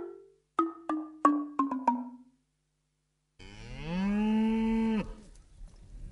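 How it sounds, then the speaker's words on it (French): A rust-coloured cow on a farm lets out a long, loud moo lasting about two seconds, preceded by a series of short knocking or clattering sounds. "des mugissements retentissent à nouveau"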